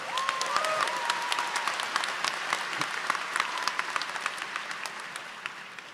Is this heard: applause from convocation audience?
yes